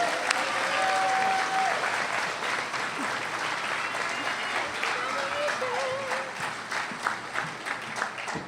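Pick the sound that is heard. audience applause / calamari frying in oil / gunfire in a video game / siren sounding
audience applause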